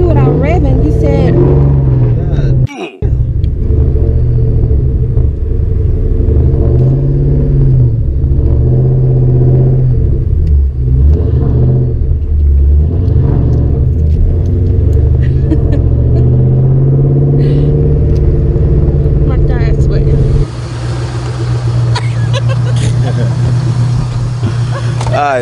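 A Ford Mustang engine drones steadily close by throughout while driving, with low rumbling and occasional revving rises in pitch, while people talk over it.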